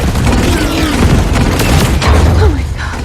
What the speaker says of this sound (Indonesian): drone menyerang mereka yang mulai menembaki para